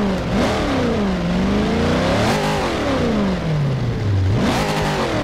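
Pontiac GTO V8 in Forza Motorsport 4 revving hard, its pitch climbing and falling in repeated surges, loud and close with a rough, throaty tone and no talk over it.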